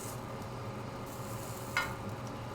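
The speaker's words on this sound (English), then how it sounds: "there's a little bit of a sizzle occasionally because the peppers are starting to explode and ooze delicious pepper juice onto the hot pan" Peppers cooking in a hot pan give a steady, low hiss of sizzling, with one brief sharper crackle partway through and no talking.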